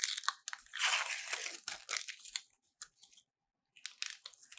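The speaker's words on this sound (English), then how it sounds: "So start by peeling off the paper" Backing paper being peeled off two QR code stand pieces: crisp, crackly tearing bursts close to the microphone, broken by short pauses and one clear silent gap.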